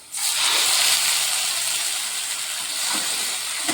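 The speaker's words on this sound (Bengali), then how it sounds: "এখন দেবো কাঁচা লঙ্কা, আদা, টমেটো পেস্ট।" Potatoes fried with green chili, ginger and tomato paste hiss loudly in hot oil, a sudden burst of dense sizzling that starts abruptly and holds steady throughout, close and alone with no talk.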